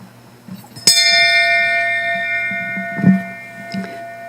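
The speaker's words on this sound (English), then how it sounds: "I would like to ring the bell," A bell is struck once at a memorial ceremony against gun violence, giving a clear, bright toll whose ringing tone sustains and slowly fades, with a few soft knocks and thuds nearby.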